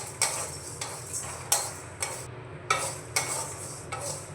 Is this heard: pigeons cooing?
no